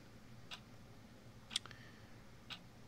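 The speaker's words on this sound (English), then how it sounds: "I hear a clock" A ticking clock in a yellow room of a video game, three faint, evenly spaced ticks about one second apart against a quiet hum.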